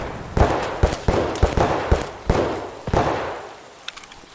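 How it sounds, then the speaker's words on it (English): A grenade blast in the shooter game Escape from Tarkov, followed by a string of sharp, close cracks and thumps in an uneven rhythm that trail off into quiet. "Was that a return grenade?"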